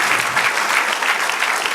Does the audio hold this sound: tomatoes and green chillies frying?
no